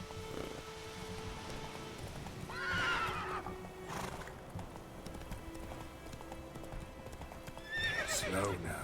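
Horse hooves clip-clopping in The Witcher 3 video game, a rhythmic trot mixed with a whinny and a steady rain-like ambience, with a few short bursts of game sound effects layered over the bed.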